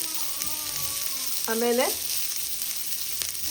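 Coriander seeds fry in hot oil in a pan with a continuous, close sizzling hiss. A voice speaks one brief word over the frying.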